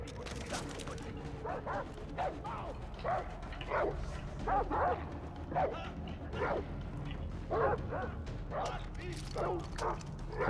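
A dog in the video game Far Cry 3 barks repeatedly in short, sharp yips and bow-wows spread across the clip, moderately close, over a low game background hum.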